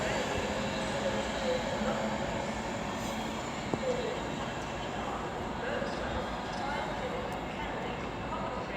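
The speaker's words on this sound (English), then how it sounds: "now coming in is going to be the 12:29 London Northwestern Railway service on Birmingham New Street to London Euston" London Northwestern Railway Class 350 electric train arriving at Birmingham International station, a steady broadband rumble and rail roar sustained throughout, with a brief sharp click midway.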